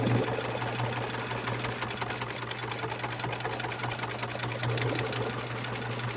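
A sewing machine runs continuously, stitching a second seam on a vinyl project bag; its close, loud, rapid mechanical chatter holds steady throughout with no talking.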